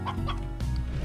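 A hen clucks in the video game Slime Rancher, loud and close: a short burst of throaty clucks ending in a sharper squawk, with no voices over it.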